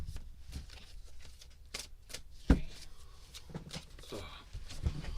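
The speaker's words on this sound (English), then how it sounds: "Let me do the cleansing shuffle thingy." Tarot cards are shuffled by hand in short, soft riffling bursts with a sharp tap partway through, quiet and close, while someone talks over them.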